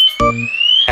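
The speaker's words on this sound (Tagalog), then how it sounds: "Kalimutan natin i-unlock yung alarm." A loud electronic alarm sounds because it was left locked, with a steady rising tone and short harsh pulses near the start and end.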